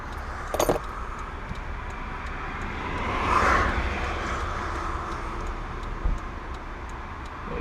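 Car keys jangle as they are set up on the dashboard of a Mk4 Toyota Supra, a brief metallic rattle over the low idle hum inside the car, with a few small clicks and taps around it.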